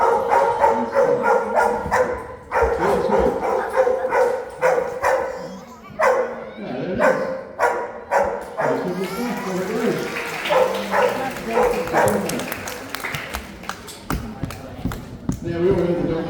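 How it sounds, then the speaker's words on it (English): A dog barks repeatedly in quick bursts at a sheep shearing, the barks fairly close and persistent over the whole stretch while people talk nearby. "Now we all heard the dog barking over there the whole time."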